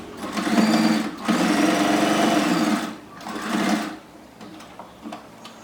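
Electric sewing machine stitching one side of old denim jeans being made into a table mat, running loud and close in two long bursts separated by brief pauses, then slowing to a few scattered stitches.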